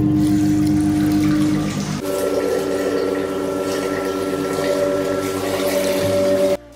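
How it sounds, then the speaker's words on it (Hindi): Cold water running steadily while wetting hair before bathing, a loud continuous gush that shifts pitch partway through and cuts off at the end. "हम तो यहाँ से बाल छाल गीले करते हैं।"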